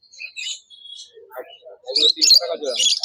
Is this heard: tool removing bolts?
no